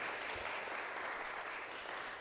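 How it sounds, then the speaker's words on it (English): A church congregation at a Sunday gathering gives a light round of clapping for Glenn, a soft, steady patter of hands sustained at a distance throughout. "a little clap for Glenn there"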